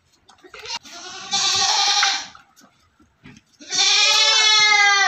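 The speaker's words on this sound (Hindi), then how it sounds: "दोस्तों एक और बकरी आई आपके लिए" Goat bleating on a Barbari goat farm in Aurangabad, Maharashtra: two loud, close, wavering bleats separated by a short pause, with faint handling noise between them.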